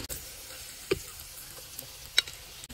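Green beans fry in a pan as bean bhaji with a faint sizzle, while a spatula stirs them and taps the pan a couple of times, quiet and close.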